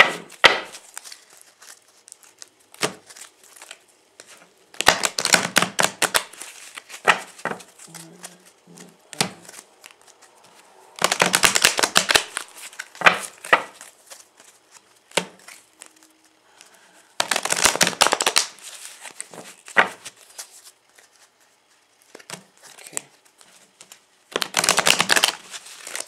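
A deck of oracle cards is shuffled by hand in several short, crisp riffling bursts separated by quieter pauses filled with faint handling sounds.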